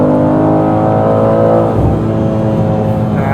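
A BMW M2 engine revving loudly and steadily against the rev limiter, with a brief dip midway and exhaust pops and bangs close by.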